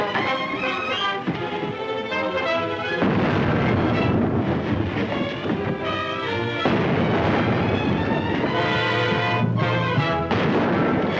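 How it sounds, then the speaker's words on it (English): A warship's cannon broadside in a 1936 war film booms in dense, continuous rolling blasts, loud and sustained across the whole stretch with heavy rumble and crackle. "Stand by for broadside. Stand by! A broadside!"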